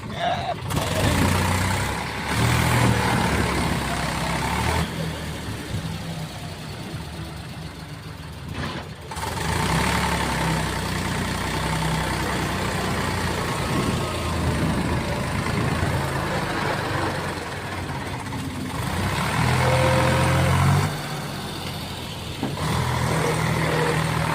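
A tractor stuck in a field keeps its engine running, a rough continuous rumble that swells and dips with brief drops, with people talking over it.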